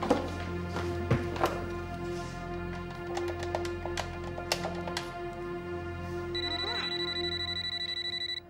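A telephone ringtone repeats a steady electronic melody indoors at moderate loudness, with light taps and clatter around it.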